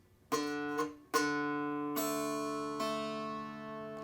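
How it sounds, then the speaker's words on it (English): Four plucked dulcimer strings ring out to check tuning, the bass string twice, then the middle string, then the nearest string, each note sustaining and overlapping in a quiet room. "if you play the bass string 2 times and then play the middle string once and the string closest to you once"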